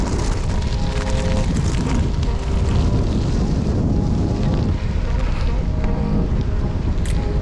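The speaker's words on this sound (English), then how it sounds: "Oh, it's so windy." Strong wind roars across the microphone while an e-bike rides a stretch of gravel, a constant loud buffeting rumble that smothers nearly everything else.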